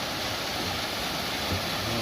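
A small waterfall at a nature tourism village, its water falling in a steady, broadband rush that stays even and continuous throughout, with no voices over it.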